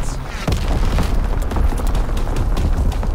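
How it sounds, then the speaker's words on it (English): Artillery shells strike in the video game Call of Duty WW2, giving heavy, rumbling booms that overlap in a continuous loud barrage with crackling bursts. "Call an artillery strike."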